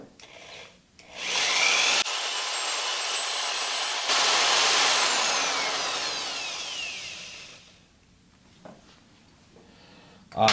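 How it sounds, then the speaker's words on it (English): A power drill with a left-hand bit whirs steadily for several seconds drilling out a screw, revving up and winding down, with brief pauses and quieter moments at either end. "And we're going to drill it some more."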